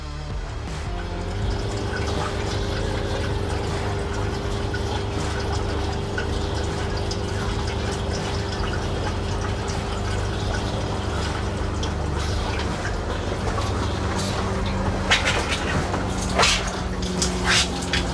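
Water rushes and gurgles steadily into an RV hot water tank alongside a low mechanical hum, with faint clicks and knocks toward the end.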